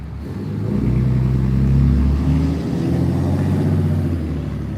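A loud white truck drives past close by, its engine a steady low rumble that swells and then eases slightly over a few seconds, with no voices.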